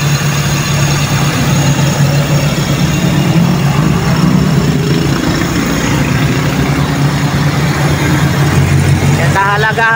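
A Toyota Corolla 4AF carbureted engine warming up, a loud steady idle droning close by for the whole stretch while someone talks over it; no clear rev rise stands out.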